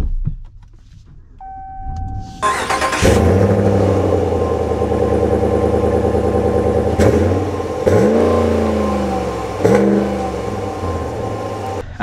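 A 2024 Ram 1500 Limited pickup's Hemi engine starts with a sharp rumble, then revs repeatedly as the truck pulls away, its deep growl rising and falling several times.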